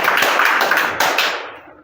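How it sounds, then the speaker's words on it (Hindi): A class of children clapping together at a lesson, a dense burst of many small hands at close range that holds steady, then thins and fades out over the final half second. "तालियां हो जाए।"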